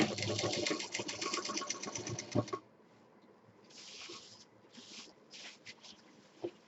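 A sewing machine stitches a handbag lining to the back panel, running in a steady loud burst for a couple of seconds before stopping, followed by quieter handling and shuffling of fabric.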